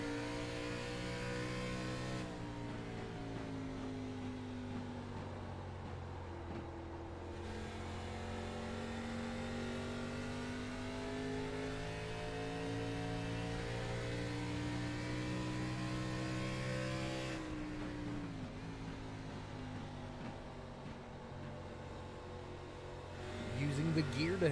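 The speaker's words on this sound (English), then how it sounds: "you could hear Bennett going down into 3rd gear there" An ARCA Menards Series race car in the iRacing video game, its engine humming steadily, then dropping in pitch as it downshifts into third gear to slow for a corner, with commentary voices over it.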